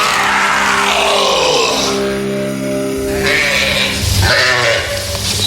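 Loud sheep bleating close by, several drawn-out calls overlapping one another, with no talk.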